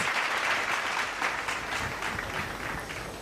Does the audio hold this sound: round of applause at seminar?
yes